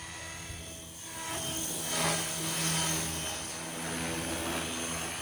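A STEAM AK420 radio-controlled helicopter, in the 420 size class, flies outdoors with a steady whining rotor and motor drone that swells and fades slightly as it moves.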